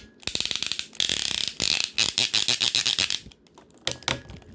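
Plastic joints on a Transformers Studio Series Revenge of the Fallen Voyager Class Constructicon action figure swivel close up, giving quick bursts of ratcheting clicks in an uneven rhythm, with short pauses between the bursts.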